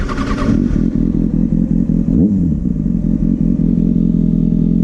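A Kawasaki ZX6R motorcycle engine runs loud and close throughout during first-gear clutch-up wheelie attempts, with a throbbing rev that rises and falls briefly midway.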